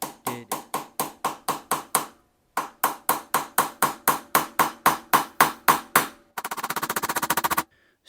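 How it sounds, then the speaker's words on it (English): Rapid rhythmic metallic hammer taps driving a bolt into a Honda CG125 motorcycle mirror mount in two long bursts, crisp and close, followed by a quick buzzing rattle that stops abruptly. "I'm going to get a bolt and screw that in there and just tap it home. It's hammer time."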